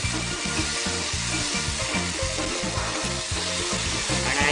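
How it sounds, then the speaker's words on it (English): Tomatoes frying in a pan with turmeric for masala noodles, a loud, constant sizzle under rhythmic scraping stir strokes, close-up and without speech. "Mix and cook until the raw flavor of tomatoes are gone."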